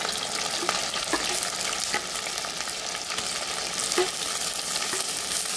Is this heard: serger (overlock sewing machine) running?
no